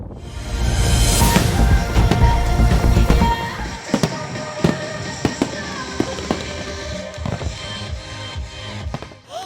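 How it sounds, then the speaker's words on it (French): Fireworks display at Martigues, a dense barrage of bursts and crackles that thins out into separate sharp booms and pops, loud and continuous across the whole stretch. "j'adore les feux d'artifice et chaque année Martigues nous régale"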